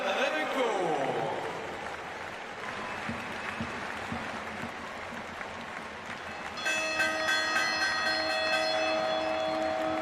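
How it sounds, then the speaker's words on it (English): A bell rung by the winner of the men's F54 javelin at a Paralympic athletics meet, its bright, sustained clangs rising late over steady stadium crowd noise and applause. "Ringing of the bell from Ivan Remenko"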